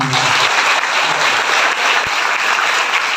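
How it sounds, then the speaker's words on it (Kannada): An audience claps loudly at a school workshop event, a dense, steady burst of applause lasting a few seconds. "ಜೋರಾಗಿ ಚಪ್ಪಾಳೆ ಬಾರಿಸಿ"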